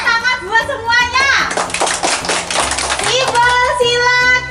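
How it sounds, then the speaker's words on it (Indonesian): A classroom group of children and adults claps together for everyone, a burst of dense applause in the middle, with voices speaking over it before and after. "Tepuk tangan buat semuanya."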